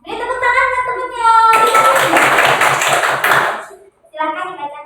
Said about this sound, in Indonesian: Beri tepuk tangan ke temannya.